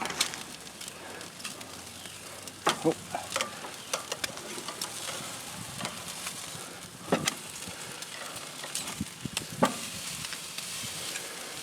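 Thick cut pork chops hissing on a Thermos charcoal grill: a low, steady outdoor sizzle with occasional tongs clinks and soft knocks as the chops are flipped, faint birds in the background.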